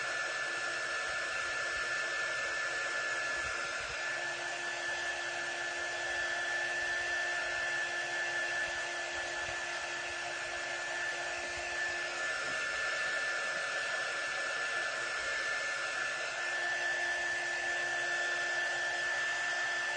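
A hair dryer blows continuously at close range to dry Halloween jars, a loud, even whooshing drone with a steady motor whine for the full twenty seconds and no talk.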